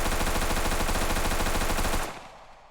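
Full-auto rifle fire in an Unreal Engine first-person shooter: a loud, close, unbroken rapid burst of shots lasting about two seconds, then cutting off into a short fading echo.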